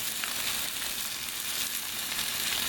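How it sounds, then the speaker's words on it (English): Bone-in pork chops browning in hot olive oil in a pan give a steady, bright sizzle and frying hiss, moderately quiet and continuous with no voices. "Going to put a little bit of olive oil in the pan, in the hot pan. We're going to brown up these pork chops."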